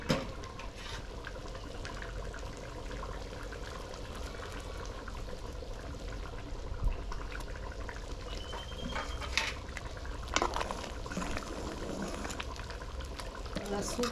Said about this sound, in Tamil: குழம்பு வந்து பார்த்தீங்கன்னா தேங்காய் சேர்த்ததுக்கப்புறம் ஒரு கொதி வந்துருச்சு